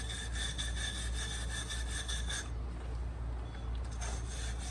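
A brush scrubs a 6.0 Power Stroke diesel engine part coated in Super Clean degreaser, a steady rasping, back-and-forth scouring that runs continuously and close up.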